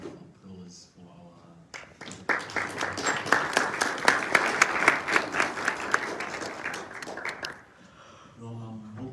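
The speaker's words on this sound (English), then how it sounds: "let's have a round of applause for our." Audience applause at a university campus address in Bloemfontein, a dense burst of clapping swelling in after a brief spoken introduction, holding steady for several seconds, then fading out as a voice returns.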